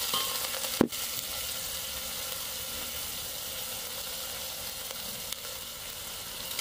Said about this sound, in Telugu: ఇలా 2 మినిట్స్ తిప్పుతూ ఉండాలి ఆనియన్స్, పచ్చిమిర్చి వేసుకున్న తర్వాత.